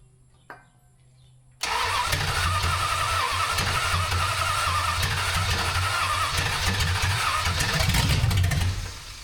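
A 1974 Dodge Dart Swinger with a small-block engine cranks after a faint click, then catches into a steady, loud idle that roars on for several seconds before cutting off.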